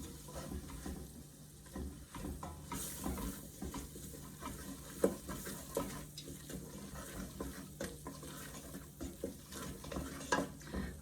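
Flour is stirred into melted butter and bacon grease in a pot to make a roux for broccoli cheddar bacon soup: soft sizzling under repeated scraping and stirring strokes, close and moderately loud, with no speech.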